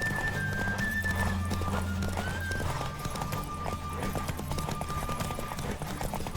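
Continuous galloping hooves of a horse in the video game The Witcher 3 over a dense, noisy rush, with faint sustained tones running through.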